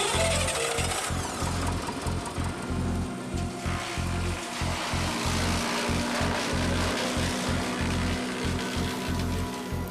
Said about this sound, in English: As machines go, a wood chipper is a low-tech brute.